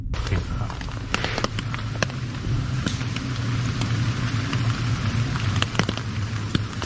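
Rain falls at night outside a tent, a steady patter with scattered sharp drops hitting close by over a low rumbling background.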